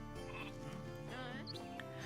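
Sheep bleat briefly in the Northgard strategy video game. A couple of short, wavering bleats sound over a sustained tonal game music bed.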